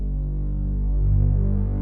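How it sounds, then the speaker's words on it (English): A deep synth bass with fast distortion, made in FL Studio for an ambient beat, drones as a thick, humming throb with a slight pulsing swell, alone and steady. "on the synth bass, I like to throw a pretty fast distortion"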